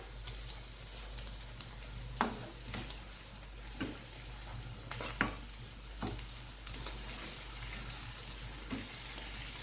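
A spoon stirs fried onions with tomato and pepper paste in a pan, scraping in scattered strokes over a steady low sizzle, close and moderately loud.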